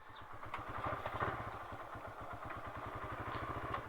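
Several motorcycles idle together close by in a steady, low, pulsing rumble, with the engine beats ticking evenly and a faint clatter riding over them, as a group of bikers sets off from San Enrique.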